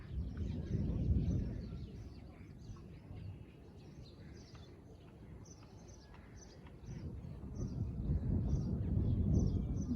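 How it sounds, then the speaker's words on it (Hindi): Distant thunder rumbles low during a rainy spell, swelling at the start and again at the end, with faint bird chirps scattered above the steady outdoor wash. "बादल गरज रहे हैं."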